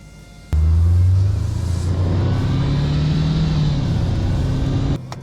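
A 2024 Dodge Durango SRT Hellcat pulls away on a humid Miami night, its engine barking loudly to life, then settling into a deep, steady rumble that rises gently as the SUV accelerates off.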